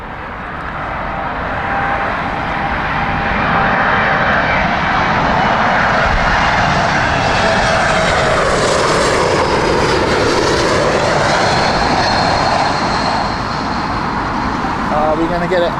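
An Air France A220 airliner arrives at Heathrow in crosswinds, its engines building to a loud, broad roar that swells as it passes close overhead and then eases slightly, with steady traffic noise beneath.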